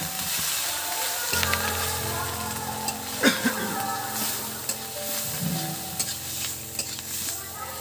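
Chana frying with ground spices, pepper, Kashmiri chilli, salt and puréed home-grown tomato in a pan: a steady close sizzle with repeated scraping stir strokes and a few louder clacks, no talking.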